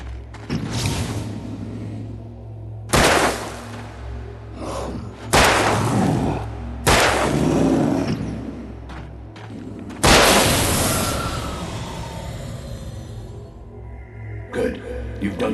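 Heavy revolver shots ring out in Alan Wake, about five loud booming blasts at irregular intervals, each followed by a decaying echo, with quieter creaks and thuds between them.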